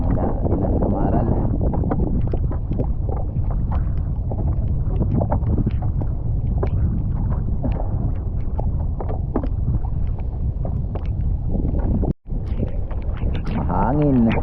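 Steady, heavy wind roars across the microphone throughout a night fishing trip, a constant rumbling buffet with faint voices underneath.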